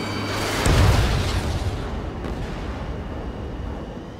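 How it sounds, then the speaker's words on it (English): A missile explosion in the Ace Combat 7 video game: one heavy boom with a deep low-end rumble that rolls on and slowly fades under continuous engine noise. "Target acquired. Missile."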